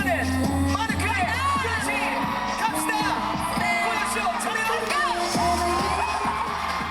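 Loud crowd at a Red Bull Dance Your Style Korea 2024 dance battle, whooping, yelling and cheering over thumping event music with sharp hits, continuous throughout.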